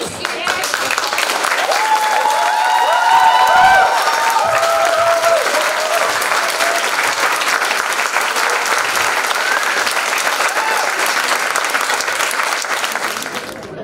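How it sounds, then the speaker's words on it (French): A local team and the owners of the Gym Art Fitness fitness centre applaud themselves at a TV news segment event, a sustained, dense round of clapping from a nearby crowd lasting throughout and tapering slightly at the end. "on va s'applaudir"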